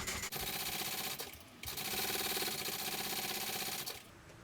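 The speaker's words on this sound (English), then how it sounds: "And top stitching this" A sewing machine runs top stitching on a sling in fast rattling bursts, close and fairly quiet, with two brief pauses between runs.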